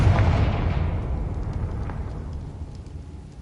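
A Confringo explosive spell goes off in Hogwarts Legacy as a loud, deep boom that rumbles and slowly fades over a few seconds, heard alone without talk.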